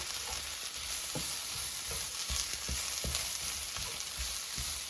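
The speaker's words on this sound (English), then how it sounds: "And mix it with the seasoning." Ground turkey seasoned with chili powder is stirred in a hot pan, giving a steady, close sizzle with soft scraping strokes of a spatula repeating throughout.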